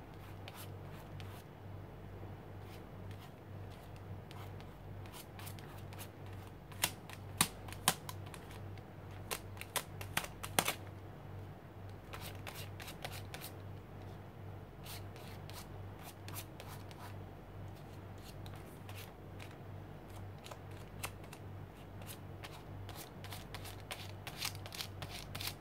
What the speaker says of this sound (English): continue to scrape away a paint and let it overlap and blend with the others